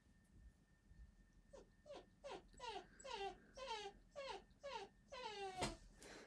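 A dog whimpers and whines in a series of rising, drawn-out cries, about a dozen in quick succession, close by and fairly soft.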